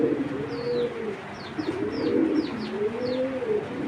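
A young racing pigeon, a male, coos in soft, low, repeated phrases, about three rolling coos close by, while faint chirps from other birds sound in the background.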